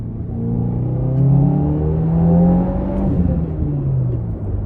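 A 2022 Subaru WRX fitted with an aftermarket air filter accelerates through a pull, a steady rising engine drone heard from inside the car, smooth and moderately loud with no other sounds.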